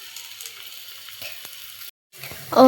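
Onion cooking in a pan, giving a soft, steady sizzle at close range that drops out briefly before a louder clatter of stirring at the end.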